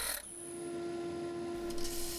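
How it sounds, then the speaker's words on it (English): A segmented wooden bowl ring is rubbed flat on a sanding board, making a short, continuous abrasive scrape with a steady hum underneath. "Sanding one side flat ready for this ring to be glued to the bowl"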